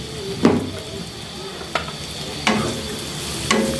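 Sliced onions and green chillies fry with salt in a pan, a constant sizzle broken by four distinct scraping stirs of a spatula at regular intervals, heard up close without speech.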